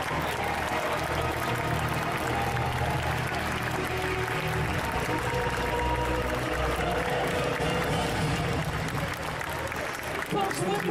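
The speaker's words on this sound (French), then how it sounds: "Je vais vous demander de faire un tonnerre d'applaudissements pour la plus jeune participante d'aujourd'hui." A festival crowd at an indoor costume parade, Yggdrasil Indoor 2022, claps in dense, steady applause that fills the whole stretch, with faint voices underneath.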